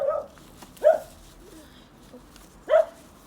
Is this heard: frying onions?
no